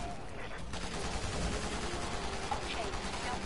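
Rapid gunfire from Resident Evil 6, with armed zombies shooting back, forms a dense, continuous clatter of shots layered with game effects throughout, close and loud, with a voice faintly mixed in.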